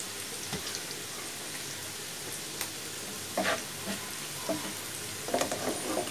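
Onions fry in a pan with a steady soft sizzle, broken by occasional scraping stirs and light clinks of a utensil, fairly quiet and with no voices.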